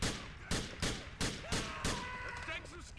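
Rapid bursts of gunfire from Grand Theft Auto IV: The Lost and Damned, several loud sharp volleys spaced about every half second, with game ambience between them.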